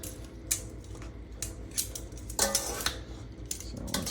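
Metal tongs clacking against a pan while ham and noodles are tossed together, several sharp clinks and scrapes at irregular intervals, close and fairly quiet.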